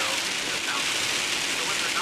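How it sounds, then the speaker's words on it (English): Heavy rain pours down steadily as a dense, unbroken hiss close to the listener, with no pauses across the short stretch. "Why is it raining so hard"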